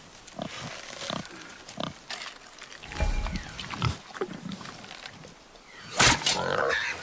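Wild boar in God of War, grunting and squealing in short bursts at close range, faint overall, with a louder cry near the end and a quiet voice briefly under it.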